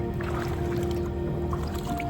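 Gold panning in a flowing stream: water swirls and sloshes steadily in a pan close by, a continuous wet churning with small squishy splashes and gurgles throughout.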